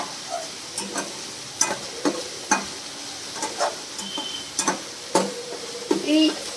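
Spice paste for doi katla fish curry being stir-fried in a pan, a soft sizzle punctuated by repeated sharp spoon scrapes and knocks against the pan, with a faint voice now and then.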